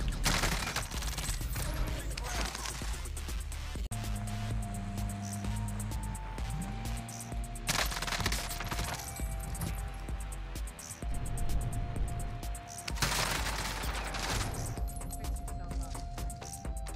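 Bursts of video game gunfire ring out repeatedly over a busy mix of music and game effects, with rapid automatic volleys and scattered shots layered throughout.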